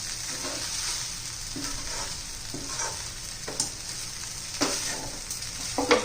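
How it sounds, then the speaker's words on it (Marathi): Sweet potato frying in a pan for a fasting thali, a steady soft sizzle with occasional scraping stirs and light clicks of the utensil, close and alone with no talk. "रताळा अजून आपली भाजता आहे त्याला थोडा वेळ लागतो"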